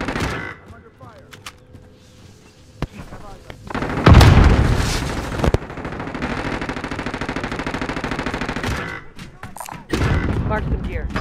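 Call of Duty Warzone gunfire in Verdansk resurgence play: sharp single shots, then a loud sustained burst of rapid automatic fire with booming impacts, set among game voice callouts.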